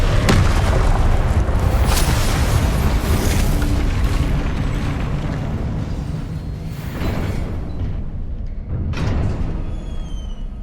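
Confringo fire-spell blasts in Hogwarts Legacy, a dense, loud rumbling barrage of booming explosions that holds throughout, with sharper bursts near the start and a fading tail later.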